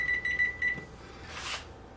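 A kitchen timer for a waffle maker beeps four times in quick, even bursts, high and bright, then stops, leaving a soft rustle.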